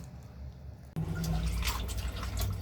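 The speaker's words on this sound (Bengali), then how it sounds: "পেঁয়াজ কলিগুলো আমি অনেক সুন্দর করে ধুয়ে নিচ্ছি।" Water runs and splashes as spring onion stalks are washed, starting with quiet background then a sudden close rush of flowing water with irregular splashing, no talking.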